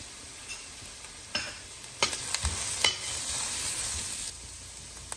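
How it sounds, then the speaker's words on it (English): Roasted spice mix for butter chicken goes into a hot pan, where it sizzles and fries steadily with a few scraping stirs and clinks, close and moderately quiet, with no talk. "I'm going to put in this spice mix that I roasted"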